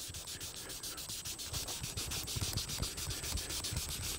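A pad scrubs tree bark soaked with 70% isopropyl alcohol, producing a close, faint, rapid rhythmic rasping and scratching that repeats in quick strokes with no talking.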